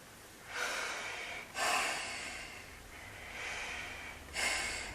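Heavy breathing through a Finnish M61 gas mask: four or five loud, hissing inhales and exhales in a slow, regular rhythm, close up and alone.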